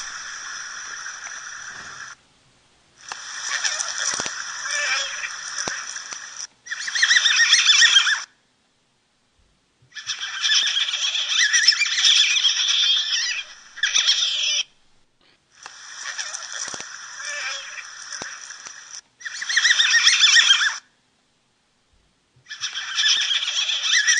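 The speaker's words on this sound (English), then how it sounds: "there's a clip here of just some of the different various vocalizations that North American river otters will make" North American river otters vocalize in a run of shrill, harmonic calls that sound almost like a whinny. The calls come in repeated bursts of a few seconds each, broken by short silences, and are loud and close with no voices.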